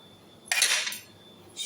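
Small spoon clinking among cutlery, a bright metallic rattle lasting about half a second, then a second short jingle, close and quiet otherwise.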